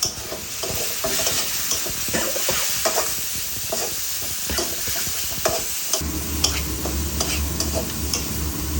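Bhuna khichuri sizzles steadily in a pan while a spoon stirs and scrapes through it, loud and close, with a deeper frying rumble settling in over the last few seconds.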